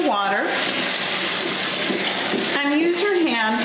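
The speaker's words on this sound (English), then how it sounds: "And then run it under your water" Running tap water splashes steadily and loudly over a craft cutting mat being rinsed under a faucet, while someone speaks over the flow at the start and end.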